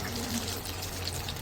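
A breadcrumb-coated chicken cutlet goes into hot frying oil, giving a steady, close, loud sizzle and crackle with no pause.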